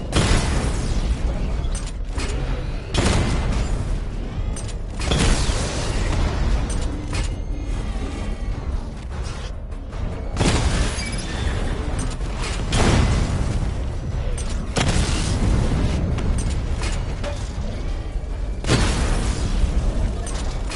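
A volley of missile barrage explosions in Batman: Arkham Knight, with a run of loud repeated blasts and bursts over a dense mechanical rumble, close and continuous throughout.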